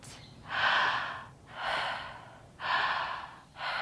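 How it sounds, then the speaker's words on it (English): Deep belly breathing in a guided breathwork session, with four long, loud breath sounds evenly paced about a second apart, each a broad airy rush of inhale or exhale close to the microphone. "Belly breath, in, out, in, out."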